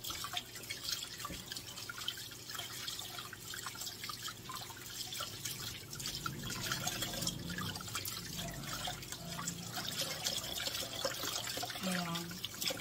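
Water runs and drips from a kitchen tap into a sink, a faint continuous trickle with low background clatter and no clear talk.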